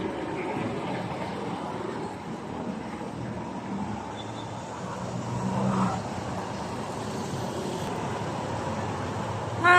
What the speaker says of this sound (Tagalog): Oh my gosh, it's traffic